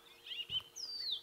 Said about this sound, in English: It is... a white-browed scrub robin.